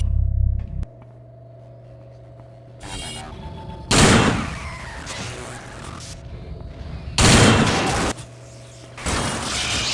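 Gunfire and wrench strikes in the video game System Shock 2 come as several loud broadband bursts, some sustained like rapid shots, over a steady low mechanical hum.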